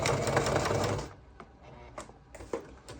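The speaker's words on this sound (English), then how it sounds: "Sew over the handle." A sewing machine stitches across the handle of a tote bag made from a feed bag, a fast, close mechanical whir for about a second, then stops, followed by a few faint clicks and handling taps.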